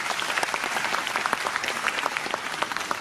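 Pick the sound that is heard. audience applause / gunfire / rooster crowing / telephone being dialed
audience applause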